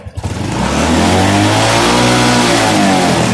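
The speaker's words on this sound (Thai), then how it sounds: "เร่งเครื่อง" A car engine revs up loudly and holds a rising, roaring pitch, starting with a few quick throttle blips before settling into a sustained high rev.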